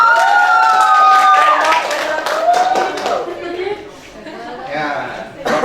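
Students in a classroom clap for a winning group, with chatter, a few cheers and brief laughter mixed in as the applause swells and then fades.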